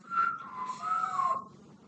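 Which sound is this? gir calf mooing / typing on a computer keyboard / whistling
whistling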